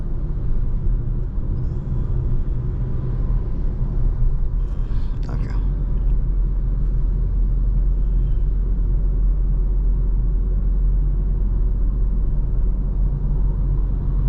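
A Hyundai Tucson cruising on a highway gives a loud, steady low road rumble and engine drone with constant tyre and wind noise, and a brief higher rattle midway.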